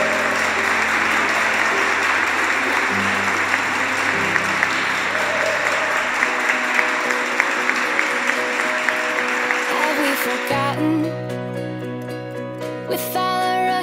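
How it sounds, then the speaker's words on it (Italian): Wedding guests at Villa Subaglio applaud the newlyweds Roberta and Stefano, a dense sustained round of clapping that gives way to music near the end. "Un applauso a questi sposi."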